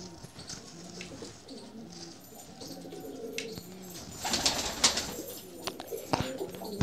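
Pigeons coo in low, repeated murmurs close by, with a few louder flutters and calls mixed into a busy outdoor background.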